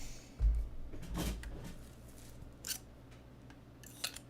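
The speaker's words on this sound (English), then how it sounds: "Why did I pull out these scissors? I don't need them." A pair of scissors is pulled out and handled up close, giving a few sharp, scattered clacks and clicks with quiet shuffling between them and no talking.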